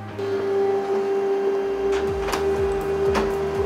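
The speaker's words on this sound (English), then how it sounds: "And then I'm ready to send the print job to the printer." A laser printer loaded with white toner runs a print job, giving a steady whine with a constant tonal hum and a regular ticking mechanical rhythm, close and alone with no talking.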